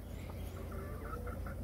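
Soft clucking from a few hens, including Aseel chickens, in a steady outdoor hum, faint and close together.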